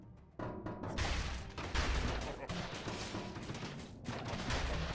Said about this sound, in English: guys that throw the exploding barrels can be a real pain in the arse